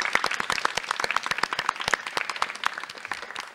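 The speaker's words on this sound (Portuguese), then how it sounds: "Então, uma salva de palmas para vocês." Brisk applause from a small podcast audience, a steady run of sharp nearby claps that slowly thins, with no talking over it.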